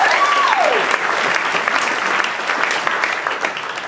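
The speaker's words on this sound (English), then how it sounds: "Let's clap it up for them." A theatre comedy audience applauds a long-married couple with loud, sustained clapping from a full room, with a faint whoop rising briefly near the start.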